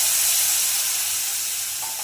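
Loud, steady sizzling hiss as water hits hot spiced oil in a pan for an okra and yogurt gravy, close and continuous with no talking.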